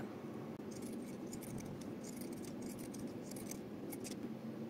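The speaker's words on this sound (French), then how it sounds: "je coupe directement avec un petit ciseau cranteur, ça marche super bien." Small pinking scissors snip through fabric in a steady run of crisp, close metallic cuts, one after another over a low room hum.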